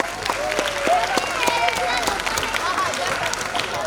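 An audience at an abacus academy award function applauds steadily for the people on stage, a sustained wash of many hands clapping that fills the hall without a break.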